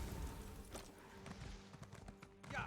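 Horse hooves clop in The Elder Scrolls Online, a soft, irregular run of thuds close by over a low game ambience lasting a few seconds.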